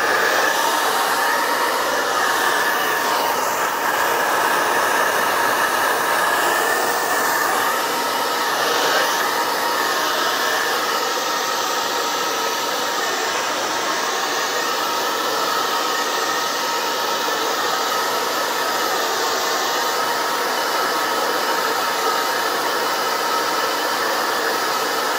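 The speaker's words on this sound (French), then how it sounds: "on va remettre un petit peu de sèche-cheveux maintenant" A hair dryer runs steadily and fairly loud for the whole stretch, drying a watercolour painting of a figure; the broadband whoosh holds constant with only slight wavering and no talk over it.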